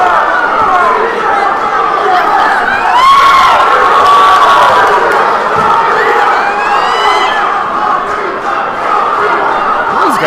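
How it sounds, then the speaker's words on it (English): A loud, dense crowd at a boxing match between Junior Almonte and Ernesto Garza cheers and whoops continuously for about ten seconds, with rising shouts and scattered voices blending into a steady roar. "He's got a cheering section."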